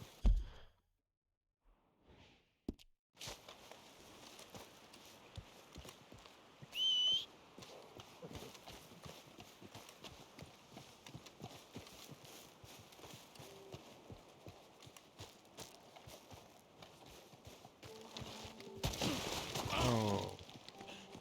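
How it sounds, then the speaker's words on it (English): A horse being led at a walk in Red Dead Redemption 2, its hooves clip-clopping in a steady, even rhythm throughout, with a brief louder rustling burst near the end. "just lead my horse. Just walk with it."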